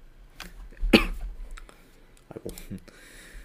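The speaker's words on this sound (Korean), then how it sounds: "감기에 좀 심하게 걸려가지고 중간중간에 제가 좀 기침이 나오는 점은 미리 양해해 드립니다" A single sharp cough from someone with a bad cold bursts out near the mic, followed by a few softer throat noises and faint shuffling in a quiet room.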